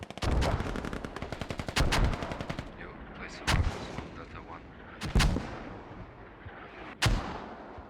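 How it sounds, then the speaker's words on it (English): Mortar fire in a video game skirmish pounding a forward operating base: a rapid rattle of gunfire at first, then single heavy booms spaced a second or two apart, loud and sharp. "RIP's mortars are hitting that FOB location"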